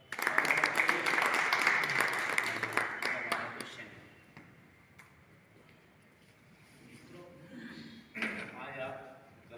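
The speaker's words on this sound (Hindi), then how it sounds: "जोरदार तालियों के साथ" Audience applause at a Constitution Day gathering of a journalists' federation in a hotel hall in Aligarh: a burst of dense clapping that fades after a few seconds into quieter room noise, followed by voices.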